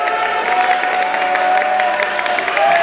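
A crowd claps and cheers steadily at a Marawood South Conference girls high school basketball game, Wausau Newman against Assumption, with loud, dense applause filling the gym throughout.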